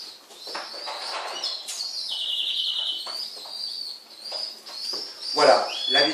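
Baby pigeons being hand-fed give thin, high chirping and squeaking calls, close and fairly loud, in irregular bursts with a louder cluster near the end.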